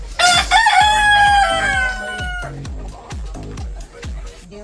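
A rooster crows loudly and close on a small mini farm, one long drawn-out call, with hens clucking in a rapid repeated rhythm underneath and a brief voice.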